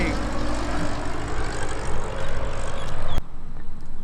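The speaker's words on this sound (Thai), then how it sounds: "แล้วก็เครื่องบินก็จะลงจอด" A fixed-wing airplane passes close by near a university airfield runway, a loud, rough engine roar that swells toward a peak then cuts sharply to a quieter drone.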